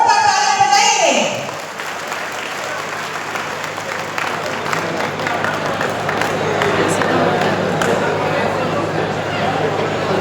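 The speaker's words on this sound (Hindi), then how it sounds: "जोरदार तालियां बजाइए।" Loud, sustained applause from a large crowd at an outdoor student felicitation ceremony in Nawadih, Jharkhand, with a few voices faintly audible in the first second before the clapping swells and holds steady to the end.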